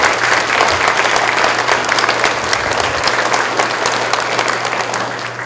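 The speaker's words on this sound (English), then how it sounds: "let's give all those individuals a big round of applause" Loud, sustained applause from a large audience at a school district Veterans Day breakfast, dense clapping that fills the room and holds steady before easing slightly at the end.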